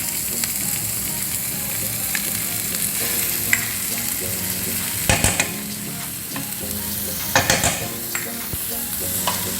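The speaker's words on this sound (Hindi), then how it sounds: "अब इसको अच्छे से मीडियम फ्लेम पे हम मिक्स कर लेंगे।" Cheese chili sandwich filling with mayonnaise and grated cheese is mixed in a pan over a medium flame, giving a loud continuous sizzle broken by repeated scraping clatters of the spoon, close up and with no talking.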